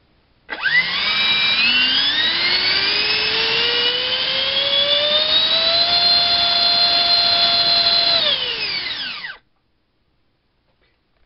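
A Dr Mad Thrust 3000kv 70mm HobbyKing electric ducted fan unit running on a 4-cell battery during a thrust test: a loud, close whine that spins up, holds high for about eight seconds, then winds down to silence.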